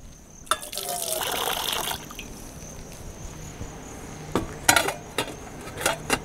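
Water gushes for about a second and a half into a pot of salted water for pasta, followed by sharp metallic clinks and knocks of the pot and utensils, close up.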